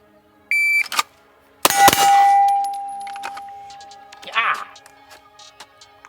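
Pistol shots with steel targets ringing: a short burst, then a loud bang with a sustained metallic ring, and a later softer hit. Compact Echelon versus Glock at a range.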